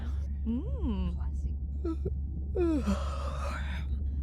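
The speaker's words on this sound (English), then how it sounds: "Was that a yawn?" A character in the underwater video game Beyond Blue lets out a drawn-out, voiced yawn followed by a sighing exhale, close and clear over a low steady hum.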